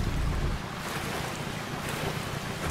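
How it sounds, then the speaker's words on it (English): A single-propeller speedboat in the Main Assembly video game skims across water at high speed, giving a steady, loud rush of wind and spray with a continuous engine-like drone and no voices. "We have a single propeller in the back, operated by the spacebar."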